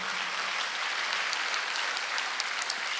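Sustained clapping from a church congregation during a Sunday worship service, a dense, even wash of many hands that holds at a steady level from start to finish.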